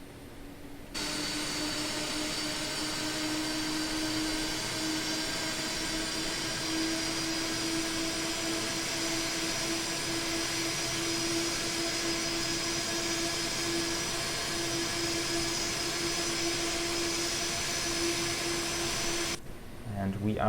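Captain Sim 767-300ER jet engines at steady taxi thrust in Prepar3D, a continuous whining turbine hum with a strong broad roar and a fixed tonal line, loud and unbroken for most of the stretch before cutting off near the end.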